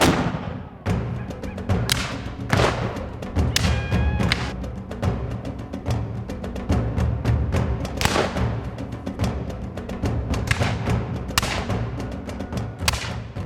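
Weapons fire at a historical reenactment of the Second Seminole War at Loxahatchee Battlefield Park in Jupiter, Florida: a long stretch of sharp, irregular cracks and thumps over a steady, noisy background.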